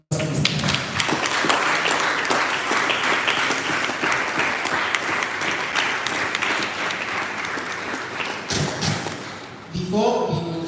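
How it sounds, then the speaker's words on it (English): Sustained applause from a large audience at a water-sector summit, dense and steady for about eight seconds, then tapering off before voices and a brief musical tone take over near the end. "A round of applause, please."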